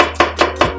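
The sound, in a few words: knife dicing onion on a cutting board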